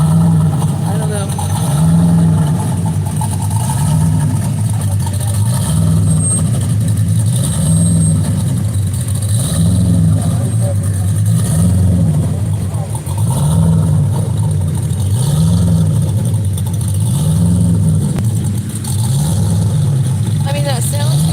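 A hot rod truck at a Pigeon Forge rod run idles loudly and close, its lumpy engine note rising and falling in a steady rhythmic lope throughout, with crowd noise under it.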